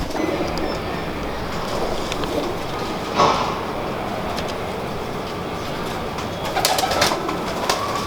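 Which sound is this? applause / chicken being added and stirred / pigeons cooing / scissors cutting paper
pigeons cooing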